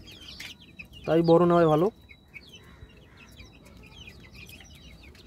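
Backyard laying hens kept for eggs cluck softly and intermittently in the background, faint chirps scattered through the clip, while a person speaks briefly near the start.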